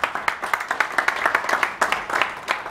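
An audience at a talk on digital innovation and energy applauds to welcome a speaker, with steady, moderately close clapping throughout.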